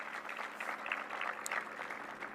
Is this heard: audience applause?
yes